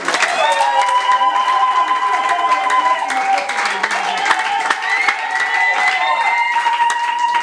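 A church congregation claps for Jesus in steady, continuous applause, mixed with sustained singing or music that runs loud and unbroken throughout.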